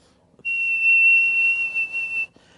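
A voice imitates the piercing high-pitched whistle of a hearing aid, holding one shrill tone steadily for about two seconds against near silence.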